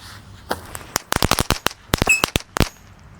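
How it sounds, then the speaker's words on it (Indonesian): A spinning tank firecracker going off up close, a rapid irregular string of loud sharp bangs and crackles over a few seconds. "Oke teman-teman, kita mulai menyalakan mercon hari ini. Ada mercon tank dulu guys."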